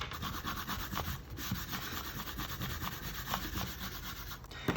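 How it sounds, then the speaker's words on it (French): An eraser rubbing out pencil construction lines on paper during a drawing, a close, continuous, scratchy rubbing with small rhythmic strokes and no voices. "on peut gommer nos traits de construction"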